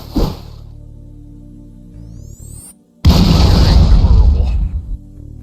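Grenades going off in a video game: a sharp boom up front, then after a brief gap a loud, sustained blast that rumbles for about two seconds, with faint game sounds between.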